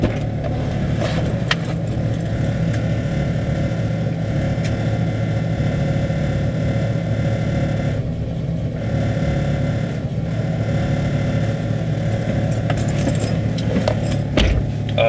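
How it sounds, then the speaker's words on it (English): A car's loose exhaust rattles and rubs against the frame, a steady metallic jangling over the low hum of the running engine, close and fairly loud throughout with brief dips and no talk. "It's my exhaust rubbing my frame"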